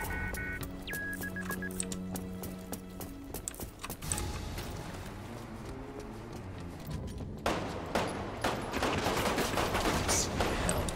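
Rapid bursts of gunfire in a video game rattle steadily through the game's background noise, with dense repeated shots that grow busier toward the end.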